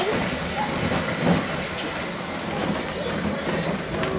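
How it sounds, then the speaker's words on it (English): A train rumbles past nearby, a steady roar with faint rhythmic clatter of wheels on the rails. "just watching some trains go by"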